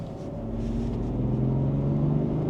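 A BMW F15 X5 M50d diesel pulls in sport mode with a deep, steady engine drone that rises slightly in pitch as it revs, heard from inside the cabin.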